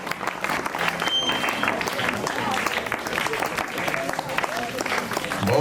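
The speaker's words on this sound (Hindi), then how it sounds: "जोरदार तालियां।" Loud, dense applause from a crowd at an Independence Day school event, steady clapping throughout with no voices standing out.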